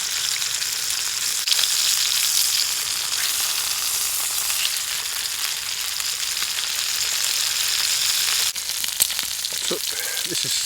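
Food frying in a pan on a camp stove in a forest, a loud, continuous crackling sizzle up close, with a few louder pops and clatters near the end.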